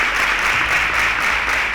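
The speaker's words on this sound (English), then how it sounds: "Please a round of applause for him." Steady audience applause at a televised Nigerian school quiz show, dense even clapping from a studio crowd that fills the short moment without any talk.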